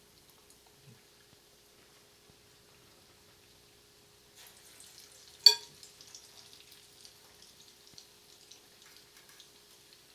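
Falafel stuffed with pine nuts and fried onions goes into hot oil. After near silence, a soft sizzle starts partway through, marked by one sharp crackling burst, then continues quietly to the end.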